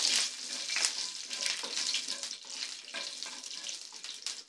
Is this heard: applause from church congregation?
no